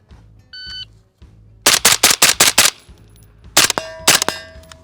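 Rifle fitted with an EoTech Vudu scope firing two quick strings of sharp, loud shots, five then two, followed by ringing metallic clangs of steel targets being hit.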